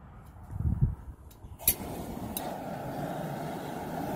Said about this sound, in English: fire up my backyard jet engine of a